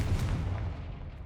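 A sustained low rumbling blast from the Confringo fire spell in Hogwarts Legacy booms and slowly fades over about a second, heavy and close with no voices.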